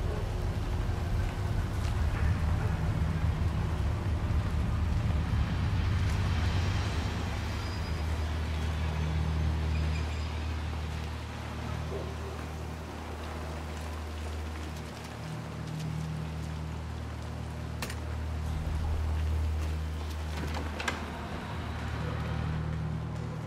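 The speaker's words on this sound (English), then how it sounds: "Let's get you out of the rain" Steady rain falls in the video game Hitman 3, a soft constant hiss under a low rumbling ambient hum, with no voices present.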